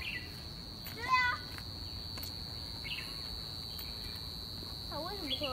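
A bird gives a few short warbling calls in Hong Kong, one near the start and a run near the end, over a constant high insect drone.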